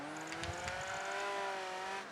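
A Ferrari F50 racing car in Project Gotham Racing 3 holds a steady, fluttering engine note at speed, its harmonics sliding slowly, with faint intermittent ticks over the continuous drone.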